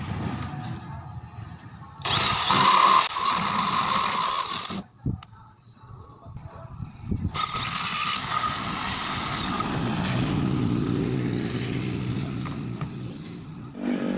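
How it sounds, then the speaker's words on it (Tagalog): A power drill with a hole saw bores into a wooden door frame, the motor whining loudly in long bursts with a brief stop and restart, close by and heavy with grinding. "hole saw."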